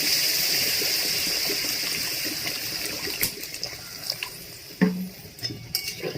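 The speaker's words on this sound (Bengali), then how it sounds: "এবার আমি জল দিয়ে দেব। জল দিয়ে দিচ্ছি।" Water poured into a pot of fried spices and oil for a Bengali fish curry with potato and eggplant, a steady continuous gush heard up close with a few soft clinks near the end.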